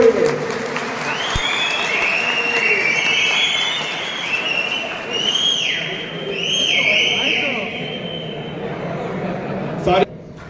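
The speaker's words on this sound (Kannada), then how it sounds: "ಅದಕ್ಕೋಸ್ಕರ ಒಂದು ಜೋರಾದ ಚಪ್ಪಾಳೆ ಚಿಲ್ಲ" A large crowd claps loudly and steadily in honour of a doctor at a public gathering of transport workers, with whistles and cheers rising over the dense applause throughout, ending in a sharp thump.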